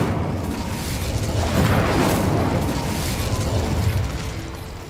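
Hogwarts Legacy's Incendio fire spell roars out as a sustained, loud whooshing burst of flame that swells and then gradually fades away, with no talking.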